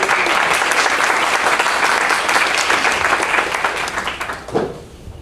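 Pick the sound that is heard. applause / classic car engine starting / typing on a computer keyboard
applause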